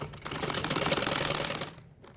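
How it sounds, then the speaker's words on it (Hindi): Sewing machine running steadily while stitching the seam of a gharara, a dense continuous mechanical whir for nearly two seconds that stops abruptly, leaving near silence. "ये देखें, मैं इसको सिलाई लगाने लगी।"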